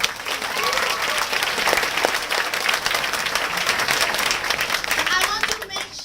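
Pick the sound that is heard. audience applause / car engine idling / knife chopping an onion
audience applause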